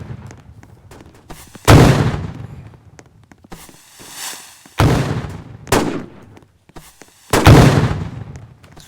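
Video game gunfire and grenade explosions in a multiplayer shooter, four loud separate blasts spread over several seconds, each a sharp crack with a decaying rumble, with quieter shots and rumbling between them.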